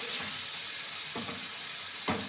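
Spice paste sizzles steadily in a hot pan for a spicy potato and green pea curry, a constant frying hiss with a few soft stirring scrapes.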